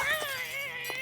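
Glass bottles of toxic chemicals smash on the floor in South Park: The Fractured but Whole, with two brief breaking bursts set against a steady tonal backdrop of game music.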